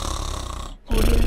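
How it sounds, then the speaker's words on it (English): A cartoon character named Carlin snores loudly in a close, steady rumble, the drone breaking into a brief quiet gap before the next snore rises again just as strong. "If I hold this over his mouth, he should stop snoring."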